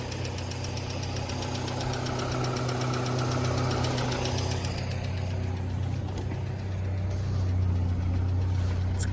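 A 1989 car engine idles steadily at close range for the whole stretch, a low even rumble with a faint ticking knock running through it and no talk over it.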